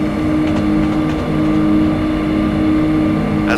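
A Class 170 diesel multiple unit pulls hard at full power in Train Simulator 2015, its engine droning loud and steady with a constant tonal hum and no talk over it.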